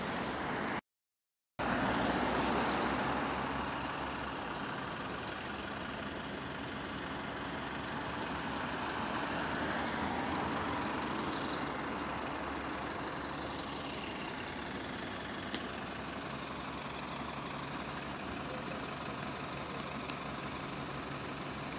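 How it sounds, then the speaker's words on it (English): A London bus engine idles in a steady, low rumbling drone with a faint rhythmic piston clucking, heard at moderate distance and fairly quiet, continuing unchanged for over twenty seconds. "you can hear the engine, the pistons clucking away"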